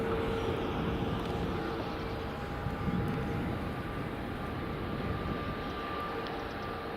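A WestJet airliner takes off at Edinburgh Airport, its engines a steady, broad roar held at a fairly constant level throughout, with no voices over it.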